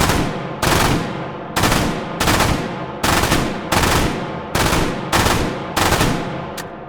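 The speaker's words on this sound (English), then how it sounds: "try to squeeze off sort of like 7 to 9 round bursts, kind of like this" A machine gun in the H3VR virtual-reality shooting game fires eight loud, evenly spaced bursts of rapid shots, each with a short gap between them and nobody talking.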